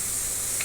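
Puran poli flatbread sizzles on a hot griddle right after being flipped, a steady close hiss and crackle of frying that lasts the whole brief moment, with no voices.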